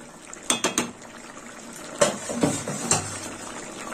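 A spiced cauliflower curry simmers in a pot with a soft bubbling bed under close clinks of a spoon against the pan, a few scattered taps throughout, and no talking.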